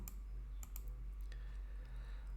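A computer mouse gives a handful of sharp, quiet clicks, some in quick pairs, over a low steady electrical hum with no talking.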